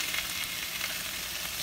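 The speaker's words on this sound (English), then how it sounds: "listen to that sizzle still" Sauce sizzling hard in a hot pan while cooking Thai zoodles, a steady close crackling fry that runs unbroken and fairly loud with no talking.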